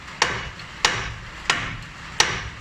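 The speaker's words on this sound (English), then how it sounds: "give this part here a good old tap with the hammer." Four sharp metallic hammer taps on a Fiat Panda tie rod end to break it loose, evenly spaced about two-thirds of a second apart, close and fairly loud against a quiet background.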